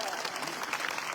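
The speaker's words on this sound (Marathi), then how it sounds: "सर्वात आपल्या गावच्या सर्वात अगोदर त्यांच्यासाठी एकदा जोरदार टाळ्या" A village gathering breaks into a short, lively burst of clapping for Ashok Dongre as he receives his certificate, many hands together at moderate distance.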